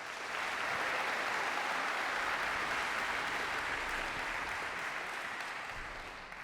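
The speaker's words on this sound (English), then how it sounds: "Please give him a hand of applause" An audience at a contemporary music festival evening gives a sustained round of applause, dense and even throughout before easing slightly at the end.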